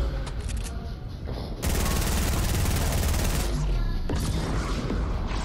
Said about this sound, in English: I just wanna keep shooting it and shit.